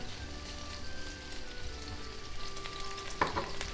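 Tomato sizzles and crackles in hot oil in a pan while cooking for shrimp and arugula linguine, a steady close frying hiss with a few sharper pops near the end and no talking.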